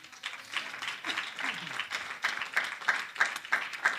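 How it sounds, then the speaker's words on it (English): A church congregation claps hands during a revival service, making a dense patter of many hands that settles into steady, evenly spaced rhythmic claps toward the end, fairly close by. "Can we clap our hands unto God?"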